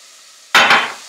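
Onions hit a hot pan with a sudden loud sizzle that flares, then slowly fades to a softer hiss.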